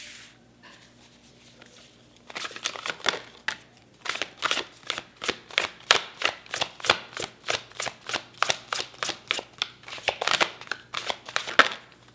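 Tarot cards shuffled by hand, a quiet start followed by a long run of rapid, evenly spaced riffling snaps, close and crisp, with no speech.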